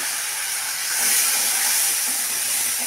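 Spice paste for a fish curry sizzles in a pan as a little water is added to cook it down, a steady loud hissing that swells briefly, close with no talking.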